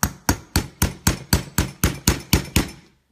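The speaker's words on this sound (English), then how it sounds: "But you're just going to punch holes" Eleven sharp metallic hammer strikes in a steady rhythm, close and loud, each punching a hole through a thin tin can filled with ice with a bright clang, then silence.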